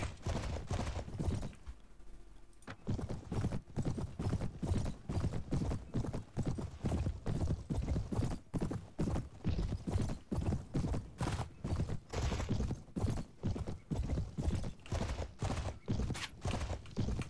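Rapid, steady hoofbeats of a galloping horse in the video game Floris pound on without a break, loud and close, with a brief neigh partway through.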